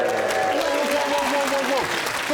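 A studio audience on the comedy panel show 8 Out of 10 Cats applauds and cheers in a sustained wash of clapping, while a voice speaks over it.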